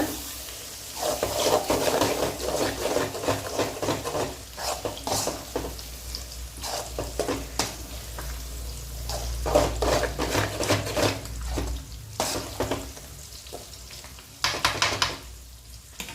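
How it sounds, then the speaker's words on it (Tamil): Pulicha keerai (gongura) thokku sautéing in oil with constant stirring, a close sizzle broken by scraping and clinking of a spatula against the pan. "நல்லா அந்த எண்ணெய் வெளியில் வரட்டும், அது வரைக்கும் கைவிடாத வதக்கிட்டே இருங்க."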